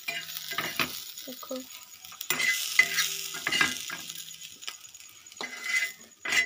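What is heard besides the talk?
vegetables frying and being stirred in a pan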